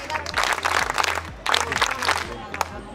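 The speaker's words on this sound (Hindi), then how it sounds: "3 तालियों से अपना ही खुद का स्वागत करेंगे।" Students at a science fair quiz clap together in a crowd, bursts of applause rising in two waves close by, with some voices mixed in.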